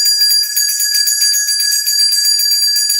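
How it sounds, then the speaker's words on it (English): A meditation-style bell rung to close a group session sustains a steady high shimmering tone with a gentle pulsing beat, clear and alone with no voices. "So just taking a breath for that and ringing the bell to ring us out."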